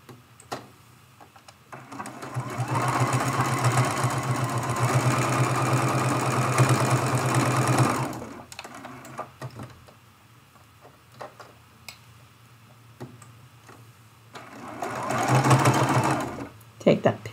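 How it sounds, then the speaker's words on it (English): A sewing machine stitches an applique Christmas tree ornament in a steady, close whir for about six seconds and then runs again in a shorter burst, with a voice talking in the quiet gap between. "I'm going to sew this second one."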